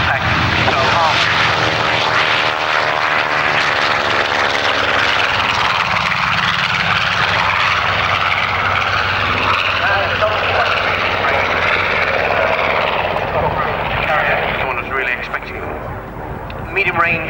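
A B-25 medium-range bomber roars past at the RAF Finningley airshow, its propeller engines loud and sweeping as it passes and slowly recedes, with a public-address voice talking over it.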